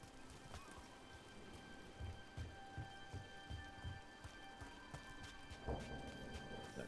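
Steady rain in a video game falls with a soft, broad hiss, while dull irregular thuds and a few sharper taps of thrown rocks sound close by. No one speaks.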